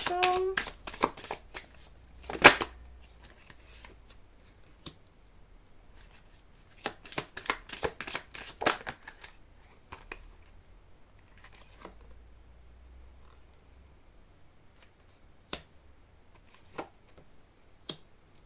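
Tarot cards are shuffled for a reading in quick bursts of riffling and snapping, busiest early on, then sparser flicks and taps with quiet gaps, close and crisp.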